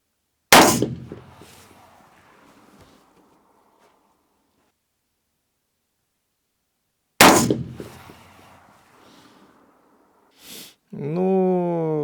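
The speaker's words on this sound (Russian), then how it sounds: "Так, в грелке сделаем несколько выстрелов." Two loud rifle shots with hunting cartridges several seconds apart, each a sharp crack with a ringing echo that decays, followed by a brief electronic tone.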